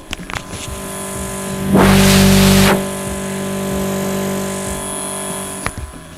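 The air assist pump on a Genmitsu Jinsoku LC-50 laser engraver hums steadily and close, with a louder burst of hissing air partway through and a few clicks at the start and end.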